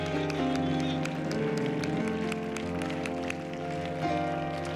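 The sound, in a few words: congregation hand clapping in praise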